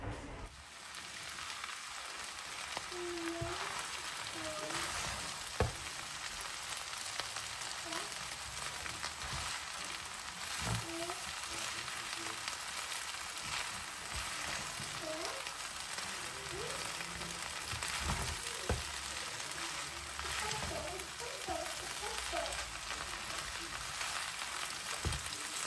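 Burmese beef noodles are stir-fried in a pan, with a continuous soft sizzle and hiss plus occasional tossing and scraping sounds, fairly quiet and steady.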